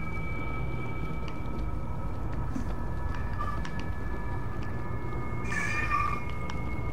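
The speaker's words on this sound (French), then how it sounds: "Qu'est-ce qui gueule ton chat là?" In the Xbox One co-op zombie shooter World War Z, a cat yowls in a drawn-out, fairly faint call under a constant dense rumble of game ambience.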